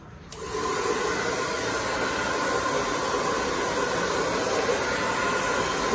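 A hair dryer clicks on and settles into a steady, loud, even whoosh of blowing air that runs on without a break, and no one talks over it.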